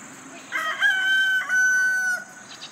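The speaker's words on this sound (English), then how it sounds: "Chickens!" A rooster crows loudly and close by in one drawn-out cock-a-doodle-doo on a farm, against quiet outdoor background noise.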